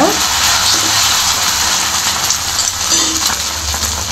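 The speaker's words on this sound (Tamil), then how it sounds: "இப்போ நம்ம கலக்கி வச்ச ஆம்லெட்டை ஊற்றிக்கோங்க" Beaten egg omelette mixture hits a pan of melted butter and sizzles steadily, a loud, close, continuous frying hiss lasting the whole moment without a break.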